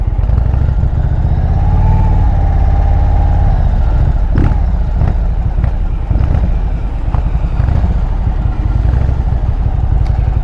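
An Indian PowerPlus motorcycle engine idles with a slight stumble, a loud, close, uneven low rumble running throughout, with some clatter and wind buffeting on the microphone.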